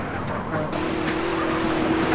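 A car engine drones steadily, its pitch holding and rising slightly, while driving in the video game GTA San Andreas, close and loud with no one speaking.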